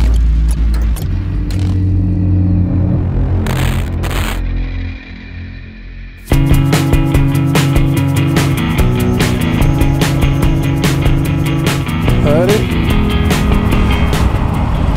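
Engines of Porsche cars rumble and rev as a group sets off from a Porsche dealership for a club outing, a loud continuous drone with a brief quieter lull, then a sudden louder surge of several engines.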